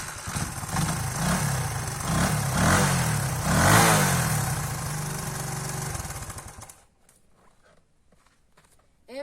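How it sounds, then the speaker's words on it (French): A 1978 Honda XR 125 Enduro motorcycle engine revs up and down in loud, rising and falling surges, then cuts off abruptly into near silence. "on va apprendre à conduire une Honda 125 XR Enduro"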